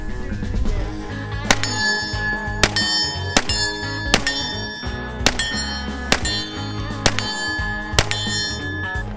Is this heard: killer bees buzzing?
no